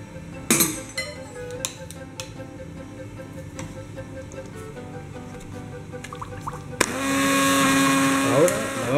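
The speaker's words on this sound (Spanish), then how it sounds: "Y aquí tenemos la salsita que la vamos a pasar con la batidora." A hand blender blends a sauce for Greek-style octopus, whirring steadily for a couple of seconds after some clinks and light handling noises, its motor loud and close.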